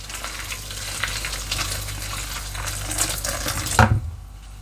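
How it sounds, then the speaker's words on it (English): Hot water splashes and pours onto raw kale leaves in a kitchen bowl for blanching, a continuous close watery rush with brief clatters near the end, then a sudden stop. "So I'm just going to add the hot water to this."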